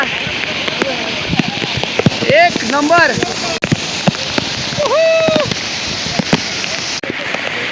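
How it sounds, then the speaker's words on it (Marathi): Heavy monsoon rain pours down at Raigad fort, a dense, continuous hiss close by, with a voice speaking over it. "जबरदस्त पाऊस जबरदस्त"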